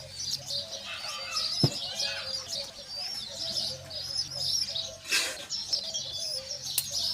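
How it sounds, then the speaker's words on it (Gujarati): Pigeon chicks call to be fed with repeated high, thin chirps and squeaks at close range, joined by a few flaps or rustles and one brief louder burst of noise. "બચ્ચાને ખાવું છે પણ હવે કબૂતર ખવડાતો નહીં,"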